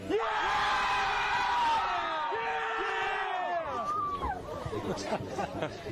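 A high school football crowd at a Loyalsock vs. Bloomsburg game cheers and yells, a loud mass of overlapping voices and whoops that swells and then tapers into scattered chatter.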